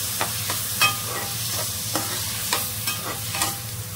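Manathakkali berries being sautéed in oil for a tamarind kuzhambu, a steady close sizzle with repeated soft scraping stirs of a spoon in the pan, no voices.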